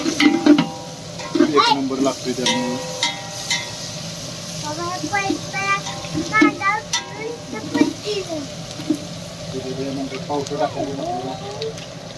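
Onions frying and sizzling in a pan for pavta (field bean) rice, with steady crackle, stirring scrapes and a few clinks of a utensil throughout, along with some background voice.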